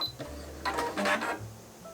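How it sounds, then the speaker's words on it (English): Singer Quantum Stylist sewing machine's automatic thread cutter firing, a short mechanical whir and clunk lasting about a second, close and clear. "That was the auto cutter."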